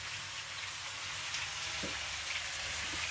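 Pieces of pork belly fat frying in a pan, a steady hissing sizzle that carries evenly throughout at moderate volume, with a faint clink partway through and no talking.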